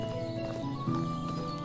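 A horse in the medieval survival game Medieval Dynasty, its hooves clip-clopping and a whinny sounding over a steady bed of ambient game sound and music, brief and moderately close.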